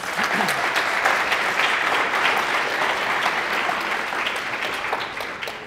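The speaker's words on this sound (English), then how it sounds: "Give them a big round of applause." An audience at the UFV Nursing Health Fair gives the panelists a big round of applause: continuous, even clapping from a crowd that holds steady for several seconds without talk.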